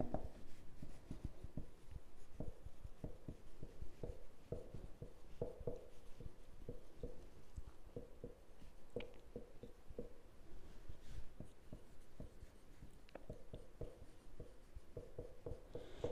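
A pen writes out a maths solution to a polynomial problem, giving quiet rapid scratchy strokes and taps that run in steady bursts, close and faint, with no talking.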